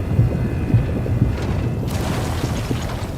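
Deep rumbling boom of an explosion in the space game Star Citizen during ground mining, a loud low roar filling the clip with a brighter burst partway through.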